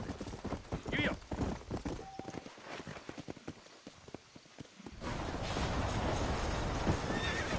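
A horse trots with steady clip-clopping hooves in Red Dead Redemption and gives a clear whinny. The hoofbeats fade into a broad rushing ambience, with game voices heard.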